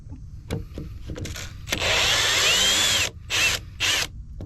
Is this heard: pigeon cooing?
no